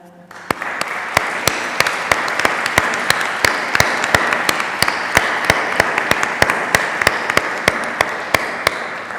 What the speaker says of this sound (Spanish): creo que todos queremos daros un gran aplauso